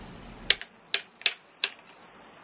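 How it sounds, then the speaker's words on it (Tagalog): A bicycle bell rings four times in a quick, bright sequence after a short quiet start, each ding crisp and close with a lingering metallic tone. "kailangan may bell ka."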